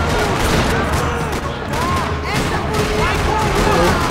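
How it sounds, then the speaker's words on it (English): Gunfire in a Max Payne 3 parking lot shootout, dense rattling bursts and cracking shots continuing throughout, loud and close with echoing reports. "Another parking lot rattling with gunfire."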